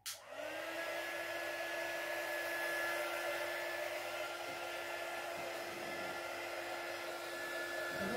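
A heat gun drying paint on an art journal page: a steady, continuous whirring blower hum with a high whine starting abruptly and running unbroken at even loudness, close by, with no voices.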